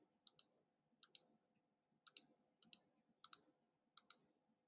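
Computer mouse clicking, crisp close clicks arriving mostly in quick pairs at regular intervals, with a faint low background hum between them.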